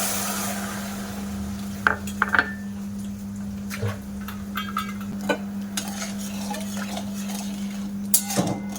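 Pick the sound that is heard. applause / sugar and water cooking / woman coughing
sugar and water cooking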